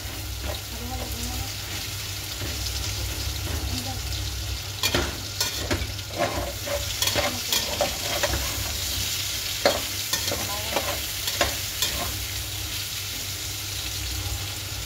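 Ginger sizzles in a hot pan for chicken adobo, a dense frying hiss broken by repeated scraping stirs and clacks of a utensil, close and steady.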